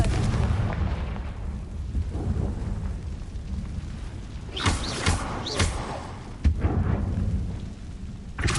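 Booming blasts from the Confringo spell in Hogwarts Legacy, several loud rumbling explosions spaced a second or so apart over a constant roaring background, with one sharper crack near the end.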